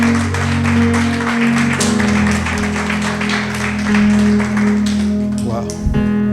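A church congregation clapping after a call to applaud Jesus, brisk rhythmic clapping over a sustained held organ or keyboard chord, with a voice speaking over it near the end.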